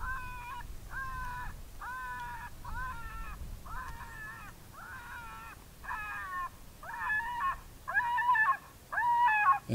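A FOXPRO Fusion electronic predator call set to level 12 plays a series of about ten repeated cawing or yelping animal calls in a steady rhythm, growing louder toward the end over faint background noise.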